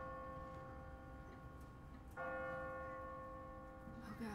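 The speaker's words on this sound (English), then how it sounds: "What kind of church bell goes off at 20 past the hour?" An automatic church bell on a timer in The Walking Dead video game tolls out of ambient game noise. One strong ringing strike lands midway and keeps sustaining, with a second onset near the end. There is no speech.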